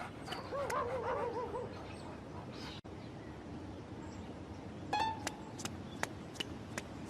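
A dog in a park gives a few short yips and whimpers, moderately loud and close, with one sharper bark-like burst partway through, over a steady outdoor background.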